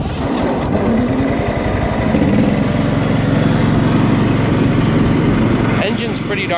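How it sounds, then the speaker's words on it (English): Cub Cadet 1320 hydrostatic riding lawnmower engine starting and running, a steady close, loud mechanical drone with a regular chug that holds evenly throughout, with someone speaking over it. "Alright, well, let's start it up."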